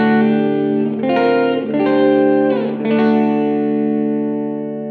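An electric guitar runs through an amp simulator with heavy distortion and a crypt-room reverb, playing loud sustained chords with a few slides between them before the last chord rings out and fades.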